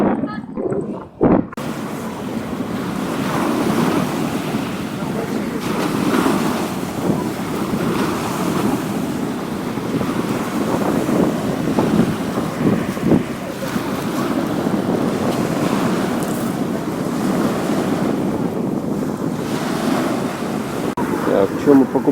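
Small waves wash onto a beach at Lyubimovka near Sevastopol, a steady surf rumble mixed with heavy wind buffeting the microphone.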